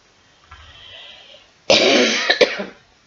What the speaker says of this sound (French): quand je tousse, ça me fait encore plus mal